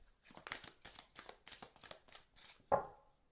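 Crisp papery riffles and slaps as a brand-new oracle card deck is shuffled by hand, about eight quick bursts in a steady rhythm, close and moderately loud, with one sharper snap near the end.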